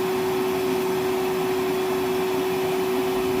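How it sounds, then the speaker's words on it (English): A Milwaukee M12 12-volt cordless 1.6-gallon wet/dry vacuum, model 0960-20, runs continuously with a steady motor whine and airflow hiss, unchanging and close, with no talking. "It's looking good so far for the Milwaukee 12-volt vacuum."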